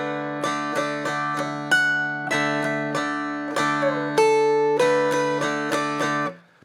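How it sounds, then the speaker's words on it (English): A stringed instrument played in a repeating pattern, a single picked bass note opening each measure followed by strummed chords, steady and close with bright ringing harmonics and no voices. "let's pick the first number of every measure and strum all the rest"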